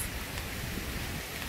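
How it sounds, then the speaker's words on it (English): Heavy downpour in a park, rain pattering densely on bushes and trees in a constant, close hiss for a short moment, without any talk. "we're just gonna run through this downpour"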